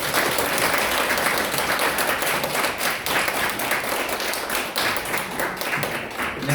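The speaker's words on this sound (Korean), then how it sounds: "큰 박수를 모시겠습니다" Sustained audience applause fills a hall at a members' gathering, loud and dense throughout with no voices over it.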